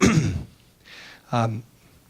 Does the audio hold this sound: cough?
yes